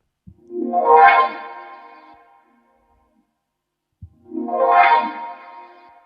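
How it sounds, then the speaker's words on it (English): Two separate synth notes, run through a filter, ADSR envelope, chorus and flanger, swell in slowly, shimmer with a swirling effect, then fade, with a short silence between them. "The sound is going through a filter, then we use an ADSR, and at the end we used a chorus and a flanger."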